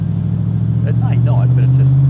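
A 2003 AC Shelby Cobra V8 rumbles with a deep steady low drone from inside the car, building gently as it accelerates, with people talking over it.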